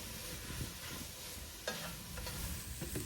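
Mushrooms and TVP for carne en su jugo sauté in avocado oil in a pan, giving a close, steady sizzle broken by a sharp scrape of a stirring utensil partway through.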